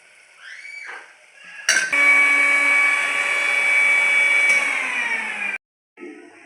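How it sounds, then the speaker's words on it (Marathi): An electric mixer grinder grinds boiled chickpeas into a coarse paste for a Maharashtrian ghugri curry, a loud steady motor whine that starts abruptly, holds for several seconds, then cuts off with a brief clatter afterward. "एवढे हरभरे ना मी मिक्सरला बारीक करून घेते"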